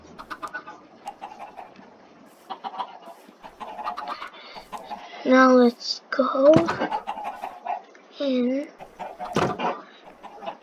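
Chickens on a chicken farm cluck and squawk in short bursts, a few louder calls standing out, while a person talks nearby throughout.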